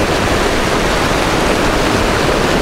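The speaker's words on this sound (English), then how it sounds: "Just getting hit by some waves on the tether." Rough ocean waves hitting the tether of a PowerVision PowerRay underwater drone, making a loud, continuous broadband rushing wash with no pauses.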